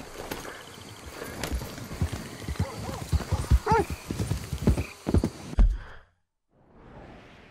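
A horse's hooves clip-clop in a steady close gait in Red Dead Redemption 2, with a whinny mixed in, before the sound drops to near silence near the end.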